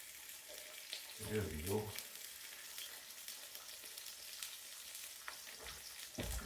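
Food fries and sizzles steadily in a pan on a wood stove, with a louder scraping thump as it is flipped early on and another stir near the end; a voice speaks briefly.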